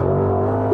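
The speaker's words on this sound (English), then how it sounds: "Listen to that engine." Supercharged V8 in a Range Rover Velar SVAutobiography Dynamic with an 8-speed ZF automatic, giving a steady, loud low rumble with strong harmonics that holds evenly and rises slightly at the very end, with no talk over it.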